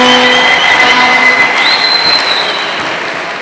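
A crowd at a church gathering with the regional commissioner applauds, loud sustained clapping with some cheering that slowly fades.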